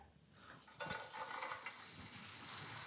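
Garlic fries with a steady sizzle in a hot pan as it is stirred, with scraping rising sharply after the first second and continuing loud and close.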